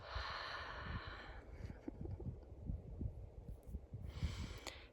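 Slow, deep breaths during a meditation practice for collective healing: a long close inhale, then a softer exhale, and another breath starting at the end, with no talking.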